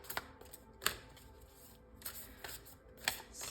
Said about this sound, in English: We're going to start with some oracle cards.